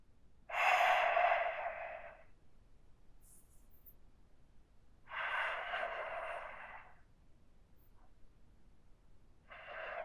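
Slow, deep breaths during a hip and back recovery stretch, three long airy exhalations spaced several seconds apart, close to the microphone in an otherwise quiet room.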